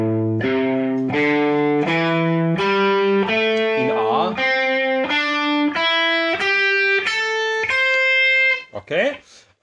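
An electric guitar plays a pentatonic riff through a distorted Marshall amp, with a run of ringing, evenly picked notes climbing in pitch, ending in a few quick scratchy strums.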